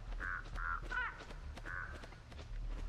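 Crows caw in the video game Dead by Daylight, four or five short harsh calls in quick succession over a low ambient rumble, moderately near.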